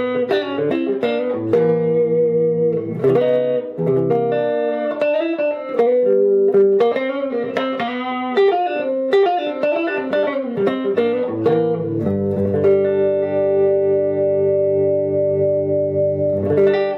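Kauer Daylighter hollow body electric guitar played on the neck pickup alone: loud, sustained chords and single notes with a steady effects-coloured tone, heard alone with no voices.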